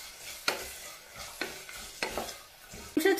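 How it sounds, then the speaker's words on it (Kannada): Carrots and beans frying in oil in a pan, with a soft continuous sizzle broken by several sharp scraping stirs of a spoon, ending in a louder clatter and crackle. "ಕ್ಯಾರೆಟ್ ಹಾಗೆ ಬೀನ್ಸು ಇದೆರಡು ಹಾಕೊಂಡು ಇದನ್ನ ಎಣ್ಣೆಲಿ ಫ್ರೈ ಮಾಡ್ಕೊಳ್ತಾ ಇದ್ದೀನಿ"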